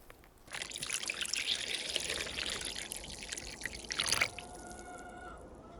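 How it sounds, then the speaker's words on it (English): Warm water pours into a bowl to soak an amaryllis bulb kit, a close, soft steady stream with trickling and splashing that swells briefly before stopping, then a few faint drips. "Simply add my water."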